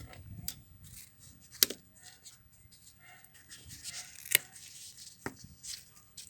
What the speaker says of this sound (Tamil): இப்போ ரோஸ் பதியம் இன்றைக்கி வந்து கட் பண்ணி எடுக்க போகிறேன்